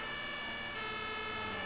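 A German fire engine siren (Martinshorn) wails steadily in a firefighting simulation game, a continuous tonal horn at moderate distance with a faint vehicle rumble beneath.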